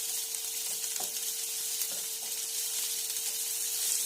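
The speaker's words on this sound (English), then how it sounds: "We're going to cook this onion until it's lightly brown and it starts changing color." Onions sizzle steadily in hot oil in a pan while okra cooks over medium heat, a continuous close, even hiss with a few faint stirring clicks and no talking.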